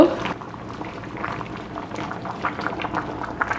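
A pot of tamarind porridge with fish bubbles and simmers steadily, with soft popping and gurgling close by and no talking.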